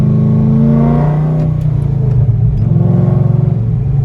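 A Cadillac CTS on the road accelerating hard, the engine note rising in pitch as it pulls, loud and close from inside the car, with no voices.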